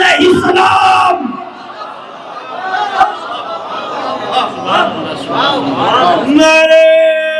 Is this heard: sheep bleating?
no